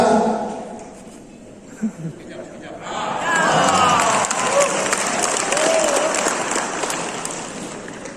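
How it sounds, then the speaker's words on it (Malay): Crowd at a Perikatan Nasional Sabah 2020 rally applauds the Malaysian and Sabah flags, a broad wash of clapping and cheering swelling in after a quieter start with scattered sounds. "Beri tepukan kepada bendera"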